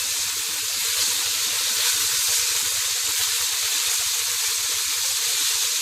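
Ginger-garlic masala sizzles and fries in a hot pan, a continuous bright hiss with rapid crackling pops, close and steady throughout.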